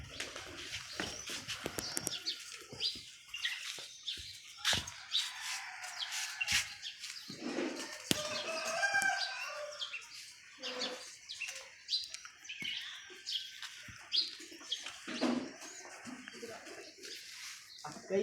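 Pigeons in a loft setting, calling and cooing with bursts of wing flapping scattered throughout, fairly close and busy, with faint voices in the background.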